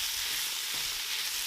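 Ground beef sizzles steadily in a little olive oil in a pan, a continuous close frying hiss with no voices.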